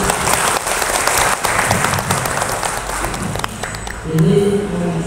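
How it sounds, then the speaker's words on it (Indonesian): Audience applause at a farewell gathering for a retiring early-childhood education supervisor in Purwodadi, a dense, steady clapping that fills the room and tapers near the end as talk and murmuring rise. "Tepuk tangan kita."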